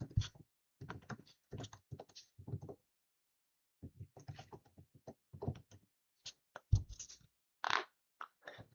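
Quiet, close keyboard typing in bursts of taps and clicks, with a pause in the middle and a few sharper keystrokes toward the end.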